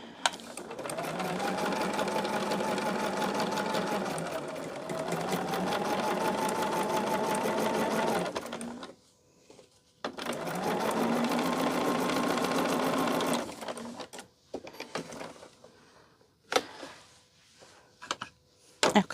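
A sewing machine stitches the corners of a tote bag in two long steady whirring runs of rapid stitching, close and clear, with short pauses, then scattered clicks and handling noises at the end.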